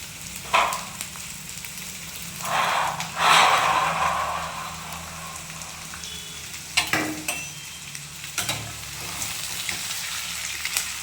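Half a dozen eggs frying in a pan for egg curry: a low continuous sizzle broken by several louder bursts of spattering and scraping, close by.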